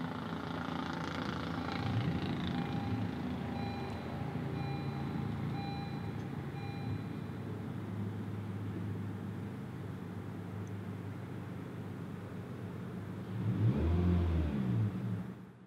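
A 2019 Honda Civic Sport with a manual transmission runs at a low, steady engine hum for most of the stretch, then a short, louder surge of revving rises near the end.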